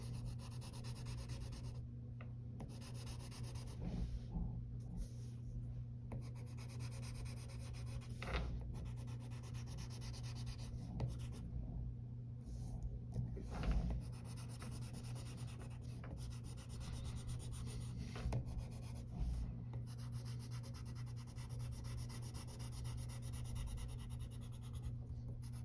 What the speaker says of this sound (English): fill in her hair. And remember to use the side of your pencil or crayon.